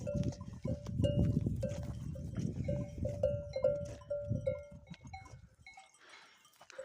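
Sheep on a mountain farm, with a string of short, evenly spaced tonal bleats or bell-like notes over a rough, rustling background that thins out toward the end.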